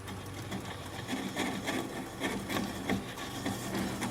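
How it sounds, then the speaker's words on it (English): Bowl gouge cutting into a black cherry wood bowl on a lathe turning slowly at 200 RPM, a close, continuous scraping and rubbing with rhythmic pulses of the tool bearing into the wood. "I'm going to apply the bevel of the gouge against the bottom of the bowl."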